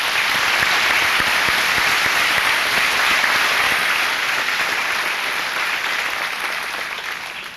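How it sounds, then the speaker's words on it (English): Applause at a Port Huron High School senior assembly, a large audience clapping in a broad, continuous roar that holds steady and then gradually tapers off near the end. "give a round of applause to all the parents and teachers and friends."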